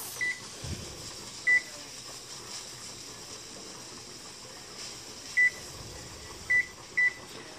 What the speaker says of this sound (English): I'm gonna go ahead and set my timer for 45 minutes.